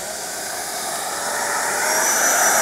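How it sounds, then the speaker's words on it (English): A Freewing F-86 Sabre RC jet on its maiden flight roars during takeoff in Largo, Florida, a steady, rushing ducted-fan whoosh that grows gradually louder with no talking. "We got a Freewing F-86 taking off."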